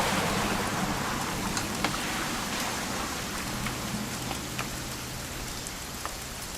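Steady rain falls in the video game What Remains of Edith Finch, a dense, even hiss of drops on surfaces with faint scattered patters, continuous and fairly loud, with no voices.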